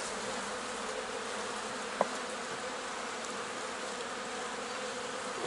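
A swarm of bees buzzes at an apiary hive in a Prykarpattia apiary during a February cleansing flight. The dense, steady buzz carries on without pause, with a single sharp click partway through.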